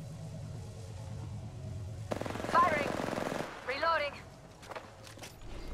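Apex Legends gunfire: a steady low background gives way to a sharp burst of rapid, evenly spaced automatic shots for over a second, followed by a shorter second burst and scattered in-game clatter, with a voice audible amid the action.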